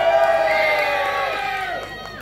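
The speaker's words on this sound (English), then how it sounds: "I want to see everybody cheering for the Independence Day." A crowd at a Bangladesh Independence Day celebration cheers and whoops loudly and steadily, a dense wash of many voices that eases slightly toward the end.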